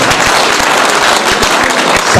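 Dense, steady applause from a crowd at a mushaira poetry recital, loud and close, clapping continuously throughout without a break.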